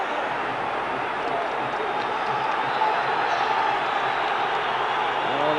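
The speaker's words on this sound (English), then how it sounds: "the crowd getting behind Rangers here" A football stadium crowd roars steadily in support of Rangers at a 1992–93 Champions League match against Marseille, a dense, continuous wash of cheering voices with no clear breaks.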